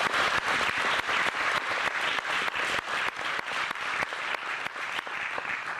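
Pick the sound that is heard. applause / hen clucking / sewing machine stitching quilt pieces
applause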